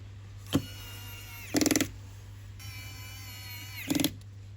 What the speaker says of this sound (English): The little torquing feature on this screwdriver is very, very handy